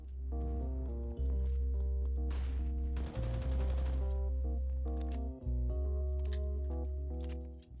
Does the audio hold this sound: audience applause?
no